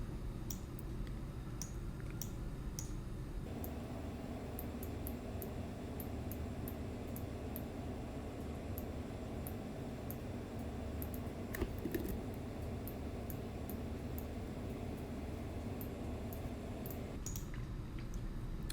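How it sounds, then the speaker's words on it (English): A computer mouse clicks repeatedly while shapes are traced in Adobe Illustrator: quiet, crisp single clicks at an irregular pace over a soft hum of room noise. "So I'm just clicking on these paths here and creating this outer shape."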